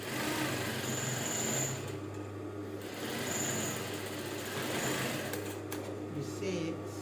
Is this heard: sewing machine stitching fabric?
yes